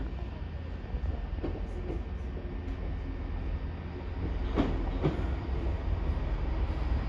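Train 165127 rumbles through a station in Oxfordshire with a steady low roar and occasional wheel clicks, heard from the platform at moderate loudness.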